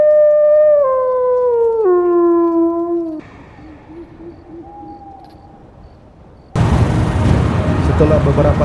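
A wolf howls in the film Alpha, with long sliding tones stepping downward, then a fainter rising howl, before a loud rumbling burst of dramatic noise takes over.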